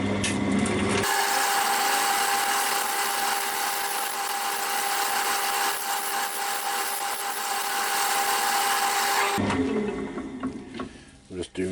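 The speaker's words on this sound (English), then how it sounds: "I'm just doing very gentle pull cuts." A wood lathe turns a bud vase under very gentle pull cuts, a steady, loud whine with a sustained tonal hum lasting most of the clip, tapering off toward the end.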